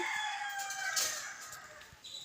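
Chickens calling nearby, with a rooster's drawn-out crow and scattered clucks over a soft rustling background, fairly loud and with no talk.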